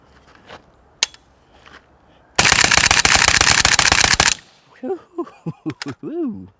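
A 300 Blackout rifle with a factory trigger fires subsonic ammunition in a quick, loud, close string of shots lasting about two seconds, followed by someone speaking.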